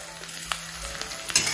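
Gentle, steady sizzle of light frying in ghee, close and fairly quiet, with a couple of soft stirring clinks partway through and no talking.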